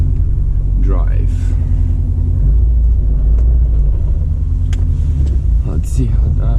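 Subaru WRX STI with a green turbo driving, its engine a loud, steady low rumble throughout, with a voice talking over it near the start and end.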